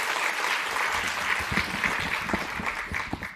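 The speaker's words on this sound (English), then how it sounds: "Please give him a round of applause." An audience applauds to welcome an associate professor at an academic talk, a steady, moderately loud wash of many hands clapping that holds for a few seconds.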